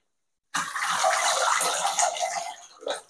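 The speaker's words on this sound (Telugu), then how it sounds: "కంప్లీట్గా డ్రైన్ అవుట్ చేసిన వాటర్ని" Water from washed puffed rice drains off in a kitchen, starting abruptly as a steady, loud rushing pour that runs for a couple of seconds before tapering, with a short final splash.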